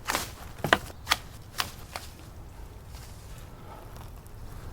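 Fiskars pruners snipping grapevine, a handful of crisp, sharp cuts close by in the first two seconds, then quiet outdoor background.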